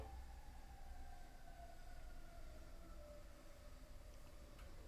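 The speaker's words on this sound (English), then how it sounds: "that was the ambulance" An ambulance siren passes near a fire department, its wailing tone gliding steadily downward as the vehicle moves by, fairly loud over a low constant rumble of traffic, with no voices.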